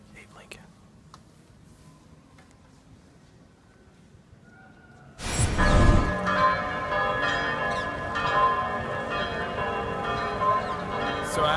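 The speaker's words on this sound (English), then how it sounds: "the bells are ringing in celebration of democracy" Church bells peal across a city square, starting suddenly after a quiet stretch of low murmuring, then sustaining a loud, dense wash of ringing tones with overlapping strikes.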